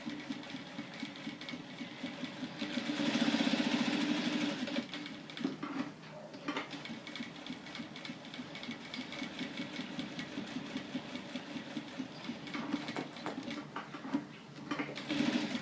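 A sewing machine stitches fabric for a baby's high-top sneaker, a steady mechanical hum with a louder burst early on, then continuing evenly alone.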